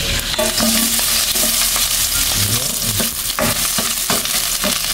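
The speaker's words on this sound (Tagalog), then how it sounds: "ilagay lang po natin yung ating bawang. Gisa po muna natin." Garlic sizzling and crackling loudly in hot oil, with a spatula scraping and stirring the pan throughout.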